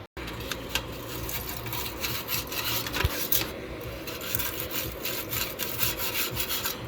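A half-inch fitting brush scrubs steadily by hand across a metal oil-furnace blower wheel, a close, continuous rasping and rubbing with quick rhythmic strokes throughout.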